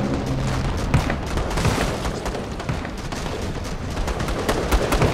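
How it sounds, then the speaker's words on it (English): Battle in Call To Arms with laser evaporator shots destroying tanks: a dense barrage of repeated booming blasts and gunfire-like cracks over a constant rumbling din, loud and busy throughout. "All it takes is one shot from that laser there, that evaporator, to take out the tanks."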